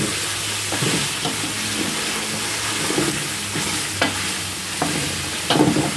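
Food sizzles and fries steadily in a pan on a wood-burning stove, with occasional scraping of a utensil stirring it, close and fairly loud.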